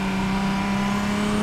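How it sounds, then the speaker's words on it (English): A Nissan RB26 inline-six engine revs loudly and continuously with a strong low drone, no voices, sustained throughout. "there's nothing better than the sound of an inline six motor"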